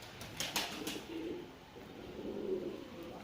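A cream-coloured male pigeon gives a few soft, rolling coos close by, fairly quiet against a light background hiss.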